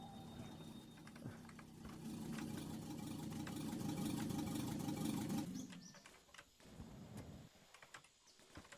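A Volkswagen Golf engine in the driving game The Long Drive, a steady mid-pitched hum that builds and holds for several seconds before cutting off, leaving quieter mechanical clicks and rustling.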